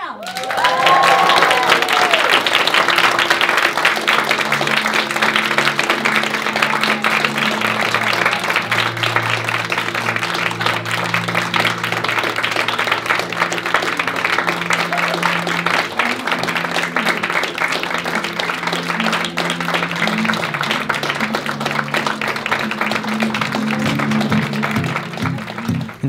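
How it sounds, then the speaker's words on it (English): Wedding guests applaud and cheer as the newlyweds are welcomed, a loud sustained wash of clapping with crowd noise and music playing underneath, steady throughout. "you may want to clap and you may want to cheer"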